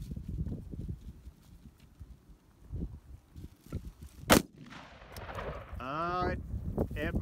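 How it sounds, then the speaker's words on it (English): A single sharp, loud shotgun blast fired at a row of six soda cans outdoors, with people talking before and after it. "We're gonna see how many soda cans it takes to stop the bullet."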